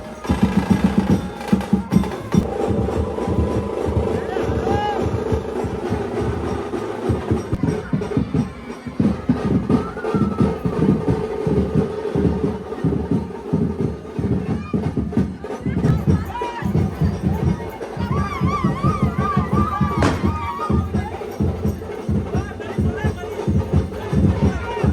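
A crowd cheers and calls out at the Gavdevi palkhi procession in Ghotgaon, a dense, loud swell of voices and shouting that keeps going throughout, with speech mixed in.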